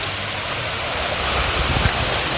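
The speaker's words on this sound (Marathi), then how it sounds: "ओ हो तो बघा धबधबा तिकडून येतोय." Waterfall at Malshej Ghat in the monsoon hills, a continuous broad roar of rushing water, loud and steady, with no voices over it.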